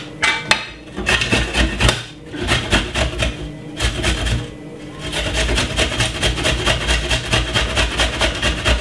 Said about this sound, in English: So basically, you can see I grated the ginger.